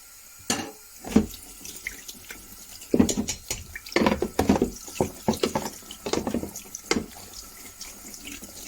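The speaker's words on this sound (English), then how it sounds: "Give them a rinse off." Stinging nettles rinsed under a running tap, with water splashing in uneven bursts as the leaves are moved around in the stream, close by and moderately loud, with no talking.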